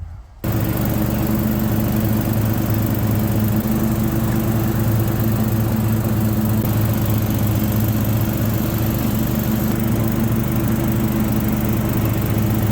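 A lawn mower engine runs steadily and loudly after a brief quiet start, a constant droning hum with no break.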